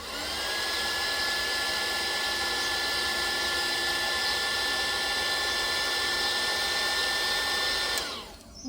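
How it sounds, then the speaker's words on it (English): A blowtorch used on resin gives a loud, steady roaring hiss that runs continuously for several seconds, then cuts off abruptly near the end. "Give it one more bit with the torch."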